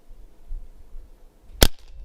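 A single sharp, loud crack from a Barra 1100Z .177 PCP air rifle firing a pellet in a quiet backyard, a short snap over low background hum.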